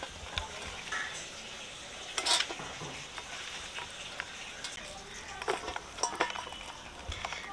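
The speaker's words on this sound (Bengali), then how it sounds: "এবার নুন হলুদ দিয়ে মাখিয়ে নিচ্ছি।" Small fish being mixed by hand with salt and turmeric in a bowl, giving soft wet squelching and stirring rustles with scattered light clinks, close and fairly quiet, continuing steadily without talk.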